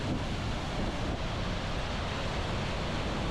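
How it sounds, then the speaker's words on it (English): Wapta Falls in the Canadian Rockies sprays water straight onto a GoPro camera held close, giving a dense, constant roar of falling water and spray hitting the lens housing, loud and unbroken throughout. "You see the GoPro's getting sprayed with the waterfall."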